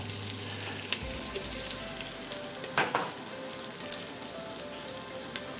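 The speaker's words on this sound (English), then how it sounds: "You slowly start to hear that start to sizzle" Onions and red pepper sizzling in a pan, a steady, moderately soft crackle like light rain, with a couple of brief stirring scrapes partway through.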